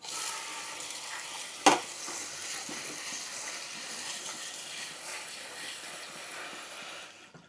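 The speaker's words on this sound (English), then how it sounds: "I'm just going to be rinsing them under the cold tap in the colander like you see" Berries rinsed in a colander under a cold running tap give a steady, even watery hiss for several seconds, with one sharp clunk near the start.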